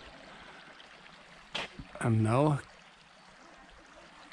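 A small creek, the Sét Potok in Veszprém, Hungary, flows with a steady, faint trickling wash that continues throughout while someone speaks briefly over it.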